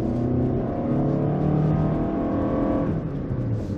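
A Toyota Sienna hybrid minivan accelerates hard up an incline, its engine note droning and climbing steadily in pitch over road and wind noise, loud and close from inside the cabin, then easing off near the end.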